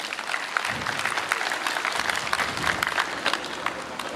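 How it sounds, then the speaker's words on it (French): An audience applauds a colonel at a military gathering, dense, continuous clapping at close range that holds steady and loud for several seconds, with a faint murmur of voices underneath. "On l'applaudit encore une fois."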